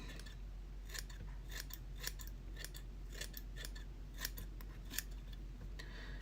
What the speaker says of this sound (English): I'm going to start to trim and shape the bullet head in the front of this fly.